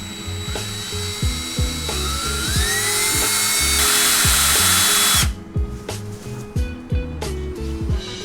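A power drill drives a self-tapping screw into the rear main seal of a BMW E46 engine with a 2JZ swap, whirring loud and close with ratcheting clicks, then short repeated bursts of driving as the screw bites.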